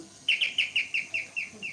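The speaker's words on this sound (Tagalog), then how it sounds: "May ibon." A bird chirps about eight times in quick, regular succession, bright and close, over a quiet indoor background during a tattoo session.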